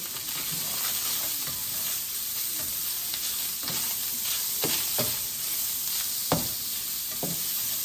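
Homemade alfredo sauce on the stove over low heat makes a steady soft sizzle with occasional gentle bubbling pops and a few light stirring sounds, close and even, without speech.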